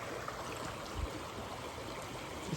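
A river flowing outdoors gives off a continuous, even rush of water, steady and fairly close, with no voices over it.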